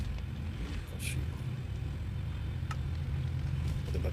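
A motorcycle engine runs nearby with a low, steady rumble throughout, under a few faint knocks and light background noise.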